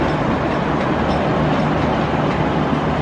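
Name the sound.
VLocity train passing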